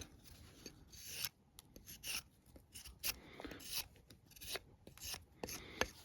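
A SAVA «Ласун» hunting knife slices and trims a small knot off a twig outdoors, making a series of short, close dry scraping and rasping cuts in irregular bursts, with no talking.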